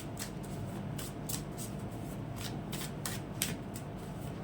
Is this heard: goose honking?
no